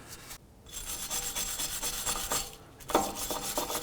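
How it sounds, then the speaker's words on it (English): A wire brush scrubs the hub mating surface of a 2007-2013 Acura MDX during a front brake job, giving a continuous close, loud raspy rubbing with short pauses, no voices. "we'll come back with a wire brush and just make sure there's no residue or debris on here"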